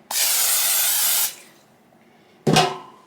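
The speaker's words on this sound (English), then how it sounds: "So I will give this a light coating of olive oil spray." A continuous close hiss of an aerosol olive oil cooking spray lasts about a second, followed after a pause by a second short spray burst.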